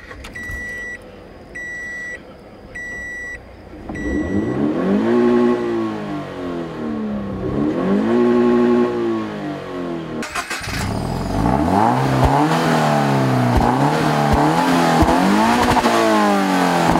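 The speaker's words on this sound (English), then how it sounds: "This is indeed an engine right out of the Camry." A Scion tC fitted with a Camry 2.5-liter four-cylinder engine starts up and revs hard several times, each rise and fall clear and close. Electronic beeps come first, and a fresh round of sharper revs and blips follows.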